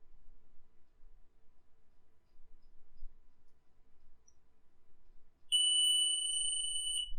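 A digital multimeter set to diode mode gives a single steady high-pitched beep across an inductor's two terminals. The beep starts abruptly after quiet handling clicks and holds to the end.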